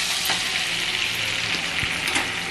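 Butter and oil sizzle steadily in a hot tawa pan while preparing egg tawa masala, a continuous close, dense frying hiss with faint stirring clicks and no talking.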